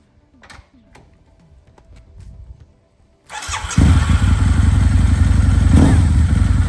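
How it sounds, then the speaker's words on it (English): A Harley-Davidson V-Rod motorcycle engine starts after a few light clicks and clatters, then catches and settles into a loud, steady, close-up rumble. "They fire it up. we'll turn her on."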